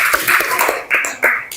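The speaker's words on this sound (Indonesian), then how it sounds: "Tepuk tangan dulu untuk kelompok 2." Applause from a classroom of students for a student group in an Indonesian junior high class, a burst of quick clapping that rises and falls in short waves, loud and close.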